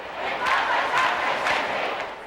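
Great crowds at World Youth Day 2002 in Toronto roar and cheer in a dense, swelling wall of voices, loud and continuous with rhythmic surges.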